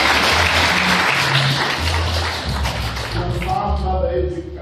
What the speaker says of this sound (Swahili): Tupigie makofi sana.